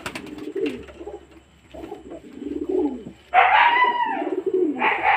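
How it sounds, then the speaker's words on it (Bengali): Pigeons cooing at close range at a home loft, rhythmic low rolling coos repeating in bursts, loud and clear, with a brighter fluttering or rustling burst partway through and no talking. "চলুন আর একটু পায়রা দেখা।"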